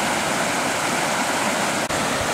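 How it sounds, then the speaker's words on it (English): Floodwater rushes through three culverts under a road and spills across its surface in Temple, Texas, a loud, steady roar that fills the clip with one brief dip. "There's water running under the road and over the road all at the same time."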